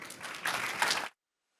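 Audience at an Art Basel panel on NFT collectors applauds the speakers, a short burst of clapping that swells and then cuts off abruptly.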